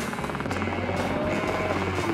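Helicopters herding a wild herd of about 700 cattle and bulls in the Australian outback, a loud, continuous rotor chop and engine roar close by with no talk.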